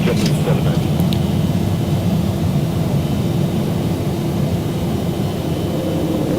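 A Boeing 737 climbing after takeoff in the X-Plane 12 simulator, heard as a steady, loud, broadband engine roar that holds constant throughout with no clear talk over it.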